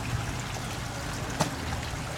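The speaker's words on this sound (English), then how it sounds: "you did like a submersible pump here for the waterfall? Yeah, it goes in, it just kind of goes along the rocks" Small waterfall fed by a submersible pump, water running and trickling steadily along rocks into a pond, a soft continuous splash close by with one brief louder plop.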